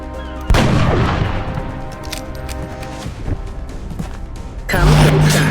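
In the video game XCOM Enemy Within, gunfire is aimed at a zombie: a loud sudden burst opening a long, rumbling volley of shots, then a second heavy blast near the end.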